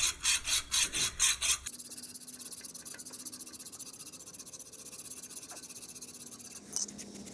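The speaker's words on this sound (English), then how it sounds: "All you can do is clean and sand the shaft slowly until it can slide down." Sanding and cleaning a Wheel Horse Model 401 tractor steering shaft: about six quick, rhythmic rasping strokes, then a faint, quiet stretch with a small scrape near the end.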